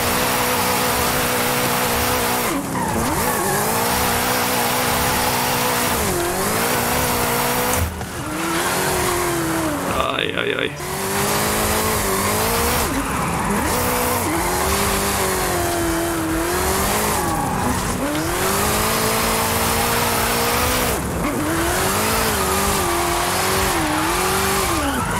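Drifting in Forza Horizon 5, a car engine revs hard and continuously while tires squeal through repeated slides, the pitch rising and falling with each throttle change, loud and close throughout.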